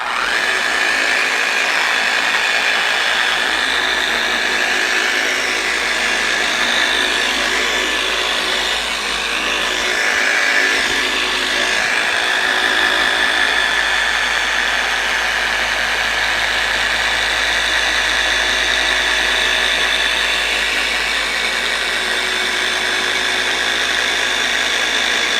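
A FLEX 3401 dual-action polisher runs steadily and loudly for the whole stretch, a constant close-up motor whine with no pauses or speed changes and no talking over it.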